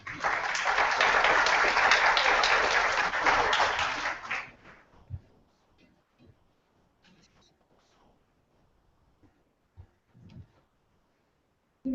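A large audience applauds after a neuroscience conference talk in Ecuador. The clapping is loud and dense for about four seconds, then quickly dies away, leaving a quiet room with a few faint voices and small noises.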